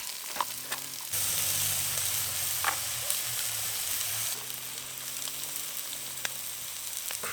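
Food sizzles and simmers steadily in a pan on a small Trangia mini stove, a continuous close frying hiss with occasional pops and no talk.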